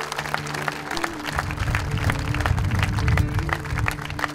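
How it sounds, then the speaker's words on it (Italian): An outdoor community gathering applauds during a village festival, many hands clapping in a steady wash over a low hum, swelling slightly toward the middle before easing. "Regalatevi un applauso."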